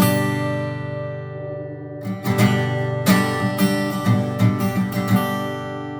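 A guitar chord fades out and is then strummed again several times in an uneven rhythm, bright and close, with the strings ringing between strokes and no talking.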